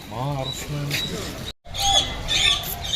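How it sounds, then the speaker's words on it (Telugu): Birds of several species squawk and chirp at Mysore Zoo, sharp high calls scattered around a voice talking nearby, with a brief dropout in the middle. "అన్ని బర్డ్స్ ఒక్కొక్క స్పీషీస్ కమ్యూనికేట్ చేసుకున్నట్టు సౌండ్స్ వస్తున్నాయి."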